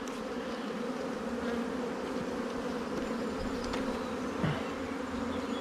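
Honeybees buzzing at an open hive during an artificial swarming inspection, a dense, steady low drone of many bees, close and continuous, with occasional louder passes of single bees.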